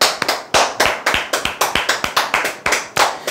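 A small audience claps together in a steady run of loud, close handclaps with no voices over them, offered in congratulation at a sales coaching session.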